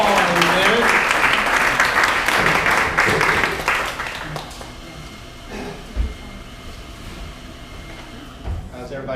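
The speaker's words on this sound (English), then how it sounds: "So let's welcome up to the stage with a whole lot of applause, Coach David Wren" A crowd at a live stage event applauds loudly and continuously as a lacrosse coach is welcomed up, with cheering mixed in, then the clapping thins out to a few scattered claps and quiet room noise.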